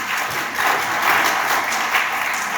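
A conference audience at a family medicine event in a hall breaks into steady, fairly loud applause, a continuous dense patter of many hands clapping with slight swells.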